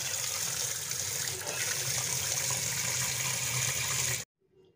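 Water is poured over fish pieces being rinsed, a continuous splashing, gurgling flow close by that stops abruptly near the end, leaving near silence.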